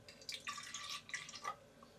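Vanilla syrup poured from a bottle into a drink, soft trickling and dripping splashes in short bursts, quiet and close, with brief pauses between pours.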